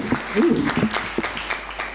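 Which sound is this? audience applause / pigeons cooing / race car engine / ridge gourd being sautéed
audience applause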